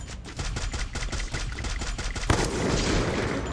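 Slow, evenly spaced gunshots from a slow-firing gun in the Free Fire video game, about seven thudding reports at a steady rhythm, followed by a louder burst of noisier sound.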